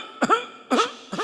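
A baby imitates his grandmother's allergic cough, producing two clear, close cough-like bursts about half a second apart with a third starting at the end, each a short harsh throaty hack.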